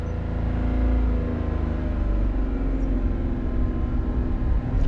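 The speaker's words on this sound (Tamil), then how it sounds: "வண்டி ஃபர்ஸ்ட் கியர் போட்டிருப்பாங்க கிளச்சை ரிலீஸ் பண்ண பண்ண பண்ண சவுண்டு கேட்டிங்களா" Car engine in first gear, rumbling steadily as the clutch is released, a dense low drone that swells slightly and holds, heard from inside the vehicle with no talking.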